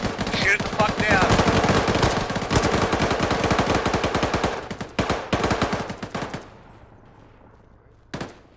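Rapid bursts of automatic gunfire aimed at an aircraft in a military video game, loud and close, with dense sustained volleys that thin to scattered shots and a final lone burst.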